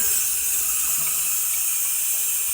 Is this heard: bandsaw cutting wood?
no